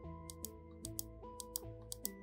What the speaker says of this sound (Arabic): وبالنسبة للكليك بتاع البكرة بتاعة التمرير او عجلة التمرير اسمع معايا